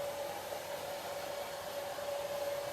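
Hair dryer blowing steadily to dry paint on a sign, a continuous even whoosh with a constant motor whine, close and moderately loud with no talking.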